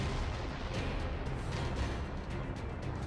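Missile launch in Nier Automata: a sustained loud roaring blast with broadband rush and a few sharp bursts throughout, alone with no talk.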